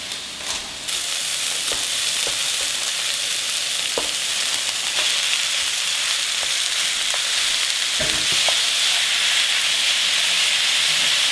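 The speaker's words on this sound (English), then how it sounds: "Now once it's softened, we're going to add the minced pork." Minced pork frying in a pan with softened spring onion, a steady loud sizzle and hiss running throughout with occasional soft stirring clicks, no voices.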